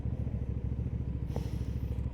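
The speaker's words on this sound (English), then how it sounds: "It is a great feeling motorcycle." A Benda Chinchilla 500 motorcycle on the move gives a close, steady low engine rumble with a dense, even throb and no pauses.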